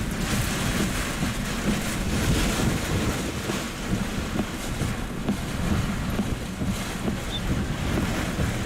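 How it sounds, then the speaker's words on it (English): Hurricane storm surge waves rip across at Surfside Beach, Texas, during landfall, with a constant roaring wash of water and heavy wind buffeting the microphone throughout, and no voices heard. "And there's the surge."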